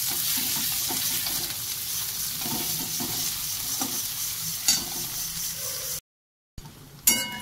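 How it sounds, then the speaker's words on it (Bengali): Chopped onions fry in oil and get stirred, a continuous close sizzle with soft spatula scrapes, broken by a brief cut to silence before the frying resumes. "এবার দিয়ে দেবো পেঁয়াজ কুচি।"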